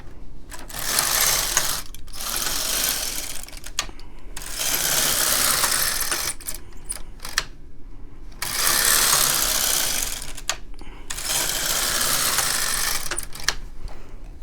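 An LK 150/KX 350 knitting machine carriage runs back and forth across the needle bed knitting rows of white yarn for a snowball beanie, giving loud whirring, clattering sweeps that come in bursts with short pauses between passes.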